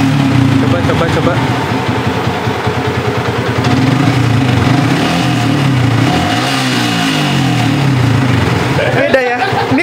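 A motorcycle engine revs hard on a sport dyno run, starting in fourth gear. The drone is loud and sustained, its pitch sweeping up and down, and people talk over it.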